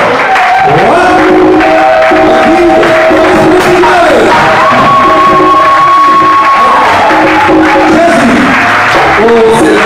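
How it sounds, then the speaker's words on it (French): A church congregation at a healing and worship service breaks into loud, sustained applause and cheering that fills the whole stretch, with shouts rising over the clapping and sung or spoken voices underneath. "Là, c'est vraiment un applaudissement."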